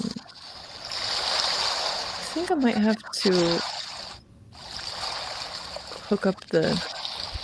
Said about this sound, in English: A wave file of waves that is playing